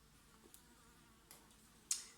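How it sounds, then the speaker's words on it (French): A housefly flits around indoors, leaving faint, brief buzzes and tiny taps against a quiet background; a sharper tick is heard just before the end. "Bon, la mouche, tu t'en vas là"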